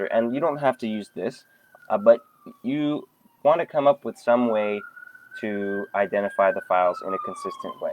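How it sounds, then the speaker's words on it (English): A siren wails outside, its long gliding tone rising and falling steadily in the background beneath continuous close speech. "Sorry about the siren noise."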